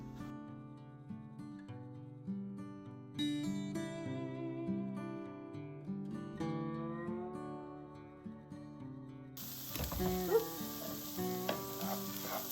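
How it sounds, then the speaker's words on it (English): Onions tipped into a hot pan to sauté in a kidney-friendly home kitchen, a broad sizzle that surges in over the last few seconds beneath steady, prominent background music. "I'm going to dump all this in here and let it saute"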